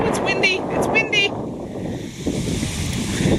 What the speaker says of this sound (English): Oh, it's windy, it's windy.